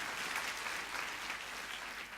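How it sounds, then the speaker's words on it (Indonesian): Audience applause fills a talk on vision at a youth inspiration event, a steady, dense wash of many hands clapping at even loudness throughout, with no voices over it. "Tepuk tangan buat kawan-kawan sekalian."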